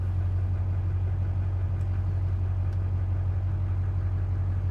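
A Duramax diesel engine idling just after a cold start, a steady low rumble that holds level and close throughout with no talk.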